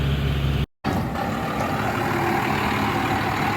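A Cummins dually pickup truck rumbles steadily as it drives up a driveway, a loud, continuous low engine drone broken by one brief dropout near the start.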